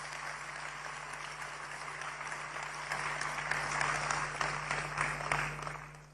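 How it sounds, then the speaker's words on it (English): A crowd applauding the national chairman at a political address, a fairly faint, steady wash of clapping that swells slightly toward the end over a constant low electrical hum. "Let's give our national chairman another round of applause."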